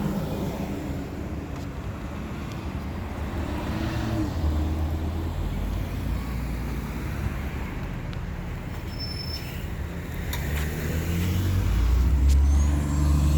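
A Montreal city bus passes on a downtown street near Lionel-Groulx, a steady low engine rumble with a faint hiss, swelling toward the end amid general street noise.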